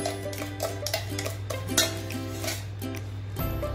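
A spoon stirs mango kulfi mixture in a pot, making steady scraping and clinking against the metal alongside a constant background hum, close and moderately loud with no talk.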